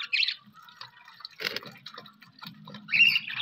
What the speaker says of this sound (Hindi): इनके बॉक्स में भी पानी डाल देता हूँ